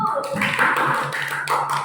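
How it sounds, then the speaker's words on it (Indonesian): Small group clapping for a teacher at a school training session, a brief burst of hand claps with scattered voices mixed in, moderately close. "tepuk tangan untuk Ibu"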